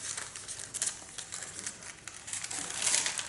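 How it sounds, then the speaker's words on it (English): Scissors trim the excess paper from a large tattoo stencil, giving a soft, steady run of close crinkling snips and paper rustles with no voice. "I'm just going to trim the excess off right up to the stencil"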